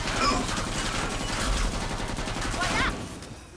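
Bullpup rifle in Killing Floor 2 fires a rapid, steady automatic stream of close, loud shots for several seconds, with game noise and faint voice underneath, tapering off at the end.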